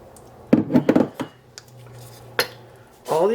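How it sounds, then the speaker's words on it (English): Milk is stirred into a pot, with a cluster of metallic spoon clinks and scrapes against the pot, a couple of later knocks, and a voice starting to speak at the end. "we are going to stir in the milk at this point"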